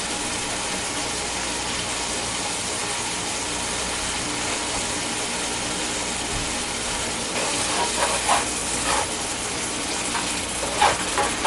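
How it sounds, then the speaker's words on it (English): Tavern noodles with an onion mixture frying in a pan give a steady, loud sizzle throughout, with a few scraping stirs near the end. "Just give that a stir."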